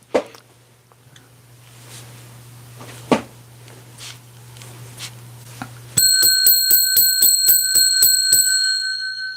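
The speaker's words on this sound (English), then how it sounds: "I ring the bell 10 times, 1 time for each 10 thumbs up." A bell rings out loudly and repeatedly in a rapid, bright series after a stretch of quieter room noise with a steady low hum and a few soft knocks.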